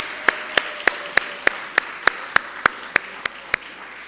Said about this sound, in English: I think she deserves a big hand clap.